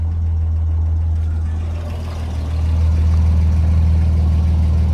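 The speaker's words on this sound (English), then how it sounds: "Motor idles very nicely." A 1969 Jaguar XKE 4.2-litre convertible's engine idles steadily and smoothly up close, a deep even low rumble with a slight dip in level midway, no voices.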